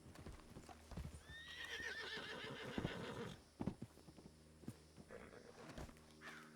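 In a video game, hooves clip-clop at a walk as a horse gives a loud, wavering whinny, then more scattered hoof steps and a brief second call.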